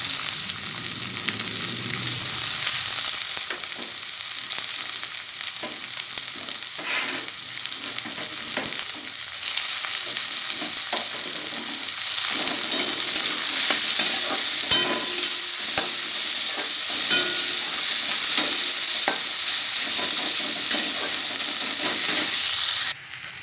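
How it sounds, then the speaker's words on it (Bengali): Chopped onion frying in a pan while being stirred, a continuous close sizzle with intermittent scraping and clinking of the spatula, no talking, holding steady for over twenty seconds. "হালকা ভাজা হয়ে গেলে এবার দিয়ে দেবো পেঁয়াজ কুচি।"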